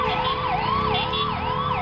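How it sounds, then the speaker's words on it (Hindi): An ambulance siren wailing continuously in a Delhi traffic jam, its rising and falling electronic tone loud and close over the rumble of idling traffic. "एम्बुलेंस ड्राइवर लगातार सायरन बजाते रहे ताकि उन्हें आगे जाने का रास्ता मिल सके"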